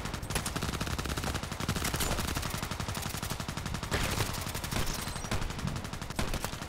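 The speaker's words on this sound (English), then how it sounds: "They're shooting at me." Rapid bursts of automatic gunfire in a shooter video game, dense overlapping shots and machine-gun rattles crackling continuously throughout at moderate loudness with no voices.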